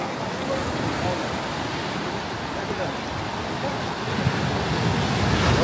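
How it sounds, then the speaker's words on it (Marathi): Sea waves roll onto Kasheli beach in a steady, broad wash of surf mixed with wind buffeting the microphone, swelling louder toward the end. "लाटा बघा."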